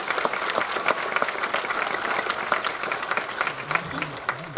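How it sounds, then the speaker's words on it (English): Families at a junior high band concert applaud students standing to be recognized, a lively, continuous clapping from a sizable crowd at steady volume, with a voice starting to speak near the end. "Go ahead, give them a round of applause"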